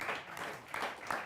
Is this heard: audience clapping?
yes